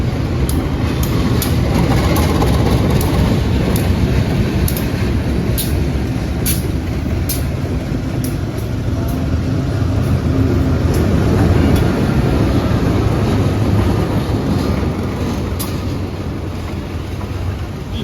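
A local passenger train coming from the direction of Bandung station rolls past close by, a loud continuous rumble of wheels and wagons with rhythmic clacks and a faint hiss, holding steady for the whole stretch without any voices.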